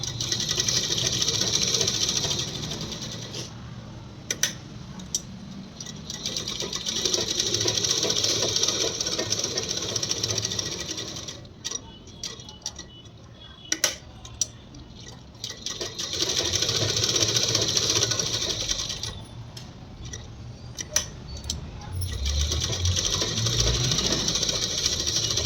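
A sewing machine stitches a pillow cover in long continuous runs, a close, steady mechanical whir, separated by quieter pauses with occasional clicks and handling noises.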